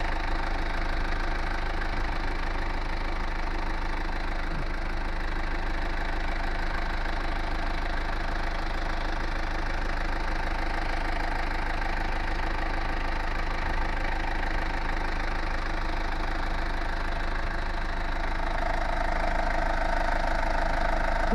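Mazda Bongo campervan engine idling close by, a steady continuous knocking rumble with even vibration throughout, loud and unchanging, no voices.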